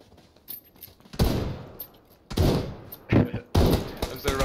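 Winchester rifle shots in PUBG, several sharp, loud reports in an irregular sequence, each with a short decaying tail, separated by quieter gaps with faint background game sounds.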